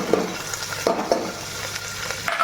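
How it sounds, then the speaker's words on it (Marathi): Chopped onion sizzles in hot oil in a pan on a home stove while it is stirred, a steady close crackle with soft scraping knocks and no talking. "इकडे मी तेल वतलं, आता ही कांदा टाकायला लागला"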